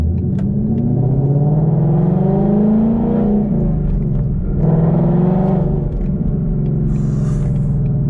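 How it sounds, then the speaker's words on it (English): A Ford Mustang GT350 engine in track mode roars loudly throughout, rising and falling in pitch as it revs and accelerates, heard close up from inside the car. "I'm finna let them down for y'all anyway so I can really hear the car."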